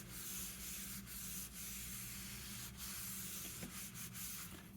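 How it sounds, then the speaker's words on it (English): Linseed oil rubbed by hand into the worn wooden stock of a B-grade M95 rifle: a steady, close, continuous rubbing and scuffing with brief swishing strokes throughout. "I'm just rubbing some linseed oil."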